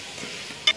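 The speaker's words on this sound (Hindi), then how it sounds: "इसको साथ साथ फ्राई करते जाएंगे।" Beef nihari frying in a pan while being stirred: a soft, steady sizzle with a faint scrape of stirring and one brief louder clatter near the end, all within a short moment.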